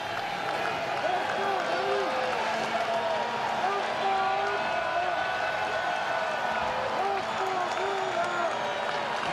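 A baseball stadium crowd at an Astros versus Athletics game keeps up a steady, roaring murmur beneath a broadcast announcer's continuous talk, with no distinct peaks of cheering.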